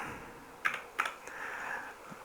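Quiet computer keyboard typing in a room: a few separate key clicks, two sharper taps early, then softer scattered presses with no voices.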